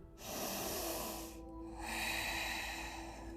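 Deep, drawn-out breaths during a Ukrainian-language yoga session for the shoulder and hip joints, a long inhale and then a second breath after a brief pause, close and steady over a faint background hum.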